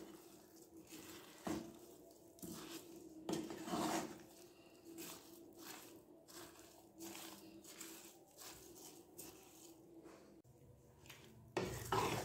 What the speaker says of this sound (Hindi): अब इसको हम साफ और खुश्क लकड़ी के चम्मच के साथ मिक्स करेंगे